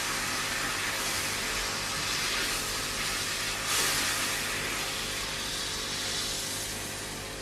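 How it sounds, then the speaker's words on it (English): Vinegar salad dressing warms in a pan with a steady, even sizzling hiss that stays loud and unbroken throughout. "Now I'm just warming up my salad dressing."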